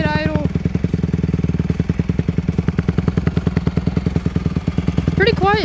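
A dirt bike engine idles steadily with a fast, even putter throughout, loud and close, while a person speaks briefly over it near the start and again at the end.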